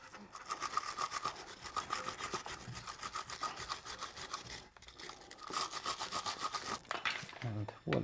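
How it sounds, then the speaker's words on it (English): A wire brush scrubs a rear brake caliper on a BMW E90 320, with rapid rhythmic back-and-forth rasping strokes close by in bursts, a brief pause near the middle, then another run of scrubbing. "Bit of wire brushing."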